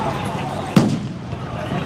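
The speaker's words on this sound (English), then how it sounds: "People are lighting off fireworks here on the streets." A single sharp firework bang goes off in the streets of Los Angeles during riots. It cuts through a steady background of crowd noise and street commotion.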